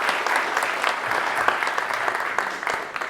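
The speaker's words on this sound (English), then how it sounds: "So another one of applause for them." Audience applause at a live Open Summer of Code Belgium 2022 demo day event, steady dense clapping sustained throughout with a slight swell midway.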